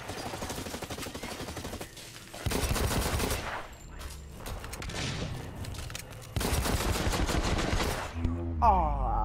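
Rapid bursts of gunfire from the shooter Blacklight: Retribution crackle in dense, loud volleys separated by brief pauses, close up and mostly alone without talk.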